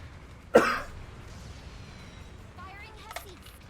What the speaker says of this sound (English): I only start coughing when I'm talking.